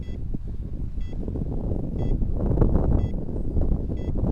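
Short electronic beeps from a Cheerson CX-20 drone's radio controller, warning the throttle stick is below 50%, repeat about once per second, evenly spaced, over a steady rushing motor and wind drone.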